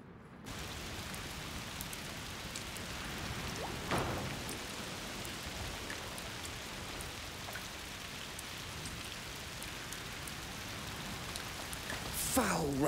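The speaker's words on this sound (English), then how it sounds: "Foul rain." Rain falling in the video game A Plague Tale: Requiem, a steady soft hiss of rainfall on surfaces with a couple of brief louder gusts or splashes, heard on its own without talk.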